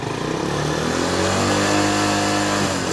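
A TVS Sport motorcycle engine revs up close, a buzzy mid-pitched drone climbing in pitch through a short throttle blip, loud and steady with no voices over it.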